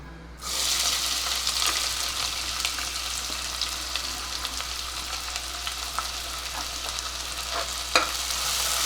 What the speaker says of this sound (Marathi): आणि कांदा लालसर होईपर्यंत आपल्याला परतून द्यायचं